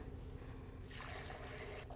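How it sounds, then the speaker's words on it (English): About three cups of water pour into a Vitamix blender jar in a kitchen, a soft, steady trickle that grows fuller and splashier midway before cutting off near the end, with no talk. "And then we'll just fill it with 3 cups of water."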